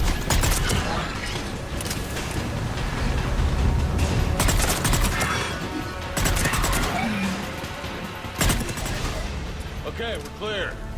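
Combat gunfire in Mass Effect 3, dense bursts of rapid shots and heavy impacts rattling loudly and nearly nonstop, with sharp cracks standing out and a few brief electronic tones near the end.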